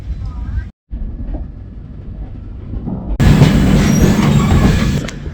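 A passenger train runs on a line in Goa, at first a low, muffled rumble heard from inside, then a sudden louder rattling clatter of the wheels with faint squeals.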